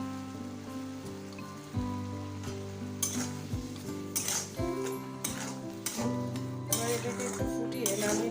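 Olive chutney with sugar bubbling and sizzling in a pan while it is stirred, a steady hiss broken by repeated spoon scrapes and pot knocks, with a faint voice in the background.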